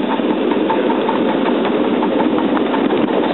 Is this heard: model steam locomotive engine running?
yes